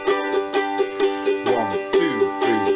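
Ukulele strummed in a bouncy rock and roll pattern, with every second and fourth beat hit harder so a steady backbeat accent stands out. The chords ring bright and close, with no talking.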